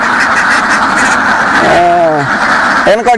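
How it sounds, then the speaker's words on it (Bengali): Ducks on a duck farm of about thirteen hundred Campbell-breed birds give two clear nasal quacks over a constant background hubbub of the flock. "তেরোশো তেরোশো হাঁস আছে"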